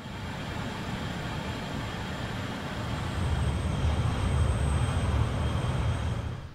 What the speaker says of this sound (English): You can use a combination of air brakes and throttle to maintain your airspeed during descent.